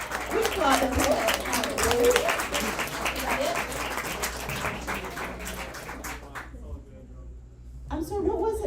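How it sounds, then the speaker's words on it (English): Audience applause for a poet after judges' scores at a poetry slam: a steady, loud patter of many hands clapping with some voices mixed in, dropping away near the end before a voice speaks. "We applaud the poet."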